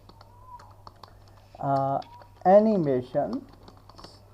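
Light, quick taps on a computer keyboard click softly through the clip while someone speaks over them, the keystrokes quiet and close.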